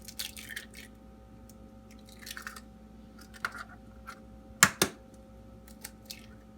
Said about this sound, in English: I'm going to put 5 eggs in.